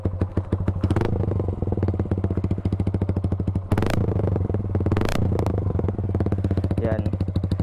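Suzuki Gixxer 155fi with an Akrapovic full-system exhaust, no dB killer or silencer, idling close by: a deep, rapid, lumpy burble with a steady throb, punctuated by several sharp revs and crackles.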